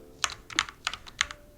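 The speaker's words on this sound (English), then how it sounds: "I'm fighting with my keyboard." Quick clicking keystrokes on a computer keyboard during web design coding work, four or five close, crisp taps in a short burst with no talking.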